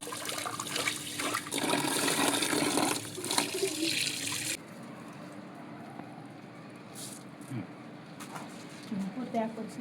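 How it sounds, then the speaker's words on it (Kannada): Rice being washed in a bucket of water for biryani, with loud, continuous sloshing and splashing for about four seconds that then drops to quieter water movement, while people talk in the background. "1 ಬಕೆಟ್ ಅಕ್ಕಿ ಹಾಕ್ತಾ ಇದ್ದೀವಿ ಬಿರಿಯಾನಿಗೆ. ತೊಳಿತಾ ಇದ್ದೀವಿ ಇವಾಗ ನೋಡಿ."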